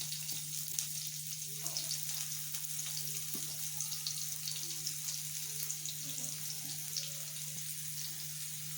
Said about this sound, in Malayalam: ഇനി നമുക്ക് ഉള്ളി ഇതിലേക്ക് ഇട്ട് കൊടുക്കാം.